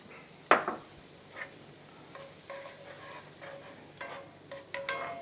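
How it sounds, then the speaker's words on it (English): Butter heating in a pan before sage leaves go in, giving a soft background sizzle with a sharp metallic clink early and scattered stirring scrapes and taps, close but fairly quiet. "And when this butter, when it foams up, basically blossoms"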